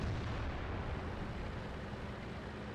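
Tank cannon fire rumbles in the World of Tanks video game, a dense, loud, sustained boom that fills the whole stretch without pauses.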